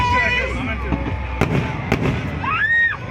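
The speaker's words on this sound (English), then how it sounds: "most beautiful day with this beautiful fireworks" Fireworks burst overhead at Tank Bund, Hyderabad, with sharp pops and crackles near 1.4 and 1.9 seconds and a whistling rocket rising near the end, over a steady hum of crowd noise.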